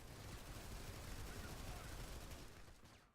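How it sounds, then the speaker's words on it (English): Sustained suppressive gunfire in a video game: a dense, unbroken roar of rapid shots that runs for a few seconds at a fairly low level and then trails off at the end. "make sure that you lay down suppressive fire on the staircase."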